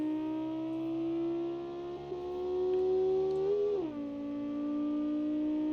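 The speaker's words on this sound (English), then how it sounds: "You can hear that little tiny adorable turbo chirping away in the background." A small modern kei car engine in BeamNG.drive hums steadily with a high, whistling turbo chirp running over it, the pitch rising gradually and then dropping sharply once.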